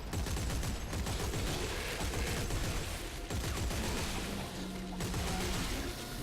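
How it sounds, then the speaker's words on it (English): Force gun blasts and chaotic combat in the Dead Space 3 video game, dense loud gunfire and impacts that go on without a break, with the game's action noise layered over them. "This is where the force gun comes in handy."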